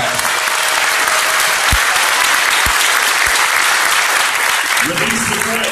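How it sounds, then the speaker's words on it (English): Steady, loud applause from an audience at an interfaith service against gun violence, sustained for the whole stretch with a few low thumps and faint voices underneath. "Come on, give them a hand clap."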